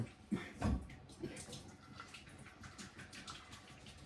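Boiled potatoes being drained of water from a cooking pot: a burst of splashing and pouring water early on, settling into a steady trickling and dripping rush over several seconds, close by with no talk.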